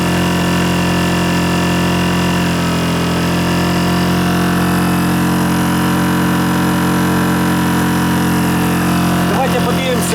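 A Zipper ZI-STE1000INV 1 kW inverter generator runs under a roughly 720-watt load, giving a loud, steady, even engine drone that holds unchanged throughout, with a brief clatter near the end.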